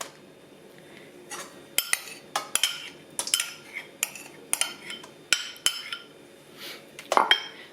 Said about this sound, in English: I'm not going to be using a mixer. I'm just going to be stirring this today.